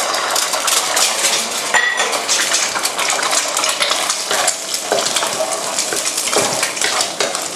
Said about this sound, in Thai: ตอนนี้กระทะเราก็ร้อนจัดแล้วนะครับผมจะใส่ ไข่ไปก่อนเลย